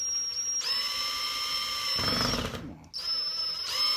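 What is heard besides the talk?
small drill bit drilling into pool noodle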